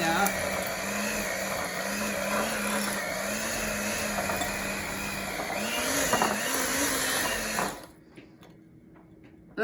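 An electric mixer creams powdered-sugar frosting for a green velvet cake, a loud, steady whirring motor with a slight wavering pitch that runs for about eight seconds and then cuts out abruptly, leaving near silence.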